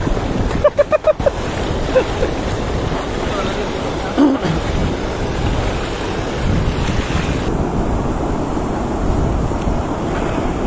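Strong wind roars and buffets the microphone during river fishing, heavy and continuous, with rushing water underneath and a brief rattling knock early on.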